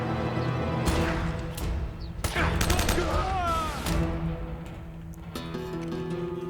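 Gunfire rattles from a weapon in the video game Uncharted: Drake's Fortune, several bursts of rapid shots and scattered single cracks over game music, loud and close.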